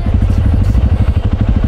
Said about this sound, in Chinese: 艾儿，你等一下上去的时候油门要 hold 着哦，不要回油。